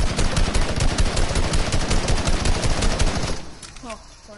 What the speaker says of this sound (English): I like the minigun.